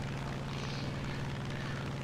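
Steady propeller drone from a P-47D-28 fighter's radial engine in a flight combat game, a continuous loud hum with a strong low harmonic band and no talk over it.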